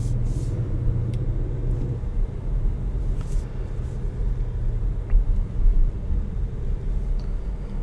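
A 2021 Audi SQ5 in S dynamic mode, its engine a steady low rumble heard from inside the cabin, with road and wind noise and a brief swell in level toward the end.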